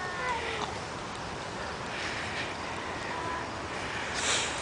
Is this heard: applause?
no